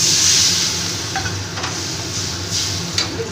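Spice paste with turmeric frying in a pan as water is poured in, giving a loud, steady sizzling hiss with a few brief spits and crackles.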